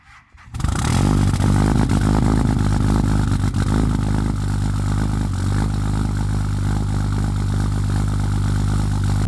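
A truck engine in the cold, running on a very low battery, catches after brief cranking and fires into a loud, rough, steady idle that holds for several seconds close to the microphone.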